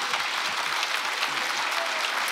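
A stand-up comedy audience claps steadily throughout, a dense, even wash of applause at moderate volume with no voices standing out.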